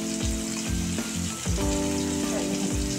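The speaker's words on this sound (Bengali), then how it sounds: "আমি সামান্য একটু লবণ দিয়ে আমি পেঁয়াজটা ভেজে দেবো" Sliced onions fry with a little salt in hot oil for a surma fish dopiaza, a dense, continuous sizzle close by with faint stirring.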